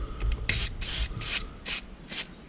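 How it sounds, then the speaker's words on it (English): An aerosol coating is sprayed onto the underside of a John Deere 1 Series mower deck in five short, close hissing bursts separated by brief pauses. "if you spray this on the bottom of your mower deck, you know, you don't get that buildup under there"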